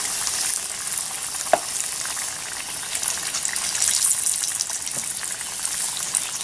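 Trout fries in lard in a pan on a Firebox camp stove, a steady close crackling sizzle filling the whole stretch with a couple of brief sharper pops, and nobody speaking.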